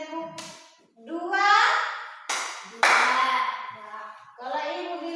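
A class of children clap on their teacher's count, two sharp group bursts of hand claps following each other, with the teacher's voice and children's chatter around them.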